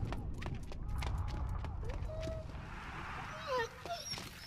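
A dog in the video game Valiant Hearts whimpers and yips in short high whines over a low rumbling game soundscape, with faint scattered clicks and some fainter cries toward the end.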